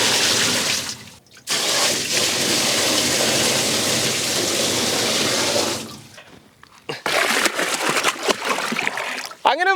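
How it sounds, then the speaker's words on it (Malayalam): Stream water is poured over stones into a homemade aquarium, a loud continuous gush that stops briefly, then breaks into irregular splashes and trickles. "അപ്പോൾ ഇത് നമ്മുടെ വെള്ളം കല്ലുമേക്കായിട്ട് ഇങ്ങനെ ഒഴിച്ചു കൊടുക്കുകയാണേ"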